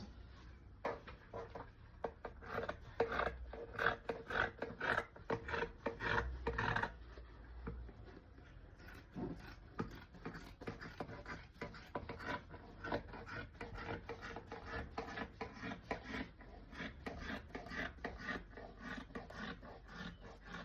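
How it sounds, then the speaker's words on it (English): Scissors snip through fabric while six skirt pieces are cut out, giving repeated close raspy cuts in a steady rhythm, louder and denser early on and then continuing evenly with no talking. "Then we'll cut it out."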